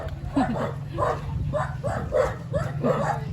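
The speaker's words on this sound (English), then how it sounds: "here's the dog, the German Shepherd." German Shepherd dog barking in a town street, a run of about six rhythmic barks close by, steady and moderately loud over a low background hum.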